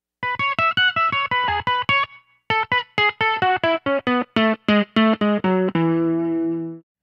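Clean electric guitar through a Pigtronix Disnortion octave pedal into a Coupe 72 amp's clean channel, playing a run of plucked notes with the octave doubling each one, ending on a sustained chord that rings out.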